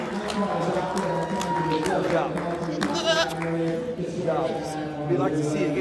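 Goats bleat repeatedly at a livestock show ring, several wavering calls rising over steady crowd noise and talk, close and fairly loud.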